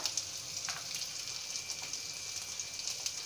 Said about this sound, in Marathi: अख्ख्या लाल सुक्या मिरच्या आहेत आता हे छान आपल्याला परतून घ्यायचं थोडासा कलर चेंज करून घ्यायचा